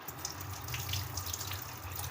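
Sago pearls being washed by hand in a bowl of water, with soft continuous swishing and sloshing of water close by, no one talking.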